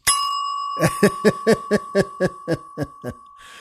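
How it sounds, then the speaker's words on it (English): A desk bell gives a single bright ding with a long ringing tone that carries through the whole stretch, while a voice laughs over it in about a dozen evenly spaced chuckles. "that's normally the lunchtime bell"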